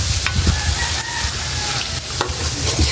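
A bitter gourd sauté gets stirred in a pan, the spatula scraping and clacking in uneven strokes over a continuous sizzle, with a rooster crowing faintly somewhere outdoors.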